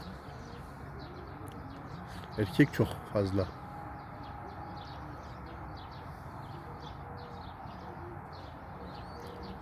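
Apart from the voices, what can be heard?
pigeons cooing in a loft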